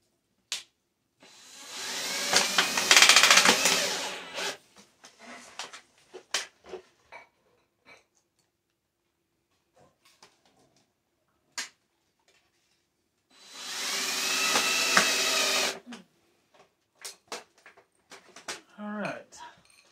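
A power drill driving screws while a wood stove is installed in a barn in Alaska, two loud whirring bursts several seconds apart, separated by quiet stretches with scattered clicks and handling knocks.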